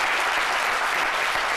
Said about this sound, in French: Je veux vraiment qu'on fasse un tournée d'applaudissements pour tous ces humoristes.